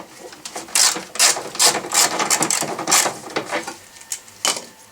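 A wrench ratchets a screw loose on the windshield washer reservoir tank of a 2001 Volvo S60, making a close series of quick clicking bursts in an irregular rhythm, with no talk.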